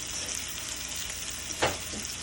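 Soft, steady sizzling of a brioche bun frying in a pan, with a single brief scrape or clink partway through.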